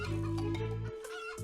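Chickens clucking in the video game Terracards, a short run of close, loud cartoonish clucks and squawks with a sustained tonal note.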